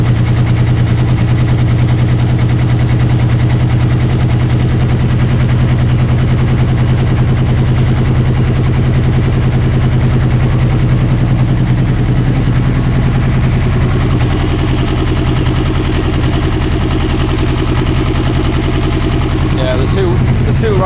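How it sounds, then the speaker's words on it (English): Honda CB1000R motorcycle engine running rough, misfiring on two of its cylinders: a steady, loud uneven chugging drone with irregular popping beats, continuing throughout, with some voice in the background. "The two right cylinders aren't firing."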